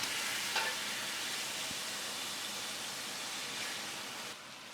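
Fish with turmeric and chili powder sizzles steadily in a pot for a Bengali fish soup, a dense even frying hiss with a few faint stirring scrapes and no talking.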